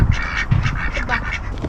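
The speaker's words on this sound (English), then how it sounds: "They're the ducks. And chickens." Several ducks quack in quick, nasal bursts close by, a loose cluster of overlapping calls with a low rumble underneath.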